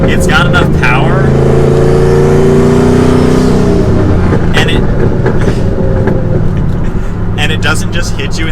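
Loud sustained engine drone from a turbocharged manual Ford Mustang GT driven at higher RPM, the pitch shifting as it pulls, with someone speaking over the engine for most of the stretch.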